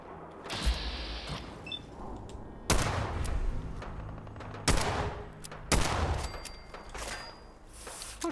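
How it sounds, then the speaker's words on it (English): A sniper revolver fires in Fallout 4, several sharp, loud shots spaced a second or so apart, each with a short crack and decaying tail, with mechanical clicks of the weapon between them. "sniper revolver"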